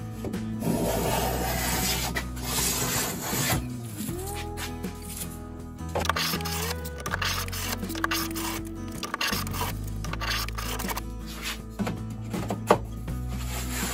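Hand plane cutting a rabbet along a wooden board edge for a china hutch top cabinet, heard close up as repeated rasping, scraping strokes with brief pauses between passes.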